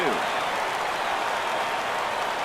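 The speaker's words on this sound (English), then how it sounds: "Crowd gets up for the 3-2." A baseball stadium crowd in a Red Sox versus Twins game rises and cheers for a full 3-2 count, a broad, steady roar of applause and voices that stays loud throughout.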